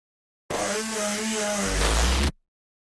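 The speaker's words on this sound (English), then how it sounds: "I throw in this really distorted vocal layer" A heavily distorted vocal layer from an electronic remix build-up, bit-crushed and format-shifted into a buzzing, gritty texture that swells for about two seconds with a deep low-end surge near the end, then stops abruptly.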